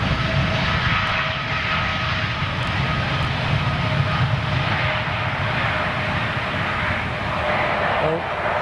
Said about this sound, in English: Definitely be working on a reduced thrust takeoff today.